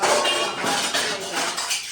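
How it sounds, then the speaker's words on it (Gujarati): Steel cooking pots and utensils clatter and clink continuously as they are picked up and carried after cooking pav bhaji in a Gujarati home, a busy close metallic jangle with no talk. "વાસણ લઈ જાઓ તમારે"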